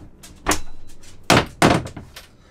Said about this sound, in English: We'll shut this. And the head also has this closing door for privacy.